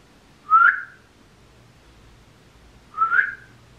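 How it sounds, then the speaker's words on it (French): Two short, breathy whistle attempts, each about half a second long and separated by a pause of a couple of seconds. "J'ai du mal à siffler."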